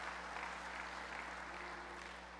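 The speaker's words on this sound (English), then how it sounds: "Caitlin, let's give Caitlin a hand" Applause from an audience at a general session meeting, a steady wash of clapping held at an even, moderate level for the whole stretch, with no voices over it.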